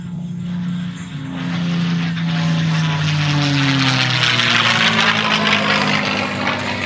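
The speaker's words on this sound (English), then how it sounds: "Once again on your right, here comes Doc in an 8-point Mustang roll." P-51 Mustang propeller plane flying an eight-point roll at an airshow, a loud, close engine roar with a throbbing propeller drone whose pitch sweeps and shifts as the aircraft passes and rolls, heard without talk.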